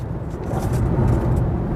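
An MG ZS EV electric car accelerates hard on a road and up a flyover, giving a steady, continuous low rumble of road and motor noise that holds its level throughout.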